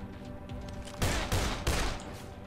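AK rifle fire in the zombie game Dead Island: three loud bursts of automatic shots in quick succession over a constant bed of game noise and music.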